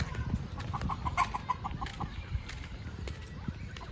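Chickens cluck softly at close range in short, repeated bursts over a low, rumbling background, fairly faint overall.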